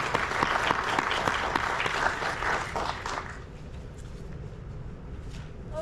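An audience applauds to welcome three panelists at a healthcare film screening panel discussion, steady dense clapping for about three seconds that then thins and fades into quieter room noise.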